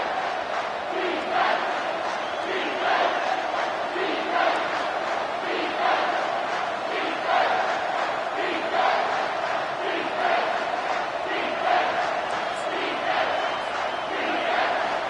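A college football stadium crowd roars steadily in a late-game moment, a broad sustained cheer with rhythmic chanting swells, distant and dense throughout.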